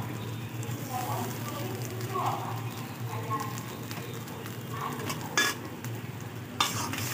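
Chopped ginger and chili frying with onion and garlic in a pan, a faint steady sizzle under occasional stirring scrapes and a couple of sharp utensil knocks, with a voice talking quietly.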